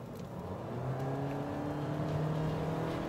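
Cabin noise inside a 2017 Toyota Corolla on the road: a steady, low drone of engine and tire hum with a faint whir, constant and unbroken throughout, and no one speaking.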